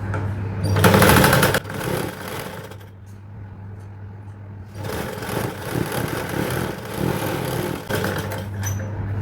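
A sewing machine runs a straight stitch, its motor whirring close and loud with a steady hum, in bursts that surge and ease across the run with no talk.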